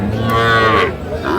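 At a cattle market, a Sahiwal cross bull lets out a loud, close moo lasting over a second, with a rising and falling tone.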